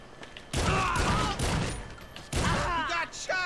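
Bursts of rapid gunfire from a GTA Online firefight, loud and close, in several sustained volleys separated by brief gaps, with a voice talking over parts of it.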